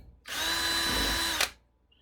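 A power drill bores a hole through thin plywood in one burst of about a second, whining loudly and steadily before cutting off with a short rattle, close up and alone.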